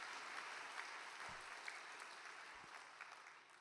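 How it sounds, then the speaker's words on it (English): Audience applause at a religious gathering, a steady even clatter of clapping held at a moderate level for a few seconds with no talk over it. "Why don't we give them a big round of applause of encouragement?"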